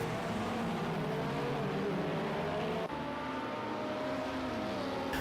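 An Audi LMP1-H hybrid prototype race car in Project Cars 2 holds a steady, high engine drone at speed, loud and continuous with only a brief dip.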